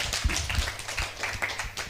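An audience at a church gathering claps in a quick, uneven burst of hand claps, close and moderately loud, without talk.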